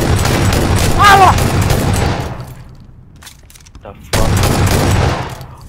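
Rapid gunfire and shotgun blasts in the battle royale game PUBG come in two dense, loud bursts separated by a short lull, with a player's voice speaking over the shooting.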